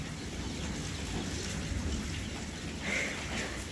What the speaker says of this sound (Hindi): देखो बारिश स्टार्ट फिर से हो गई है